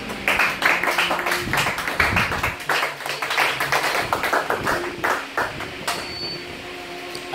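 A church congregation claps together in quick, sharp, uneven bursts close by, forming steady applause that fades slightly near the end.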